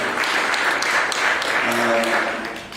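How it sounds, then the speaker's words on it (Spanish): Church congregation applauding during an afternoon service, a sustained crowd of claps with a voice speaking over it before tapering off. "¿Cuánto le dan un aplauso al Señor en esta tarde?"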